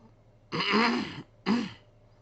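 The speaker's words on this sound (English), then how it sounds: "Sorry about me clearing my throat." Two throat-clearing bursts, a longer rasping one followed by a shorter one, close and fairly loud, with no talking.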